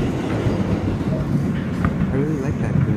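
An R160B N subway train on battery power runs along the track, a loud continuous rumble with clattering wheels and a brief squeal or whine rising near the end, a voice talking faintly underneath.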